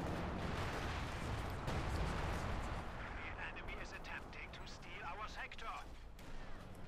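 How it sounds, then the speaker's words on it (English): Artillery barrages called in during a Company of Heroes 2 1v1 match between Wehrmacht and US Forces, a continuous rumbling wash of distant shelling and blasts running under a commentator's voice. "Very aggressive use there of the Major's artillery call-ins"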